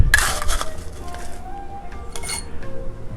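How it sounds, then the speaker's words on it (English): Crushed ice is scooped into a rocks glass for a bourbon tiki cocktail, giving a loud, close burst of crunching and clinking at the start, then scattered lighter clinks of ice settling against the glass. "Put in some crushed ice."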